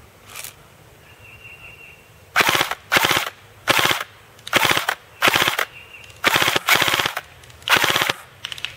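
KWA KM4 SR10 airsoft rifle firing BBs at distant targets, about ten loud, close bursts of rapid automatic shots separated by short pauses, with no talking.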